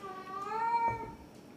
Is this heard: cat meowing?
yes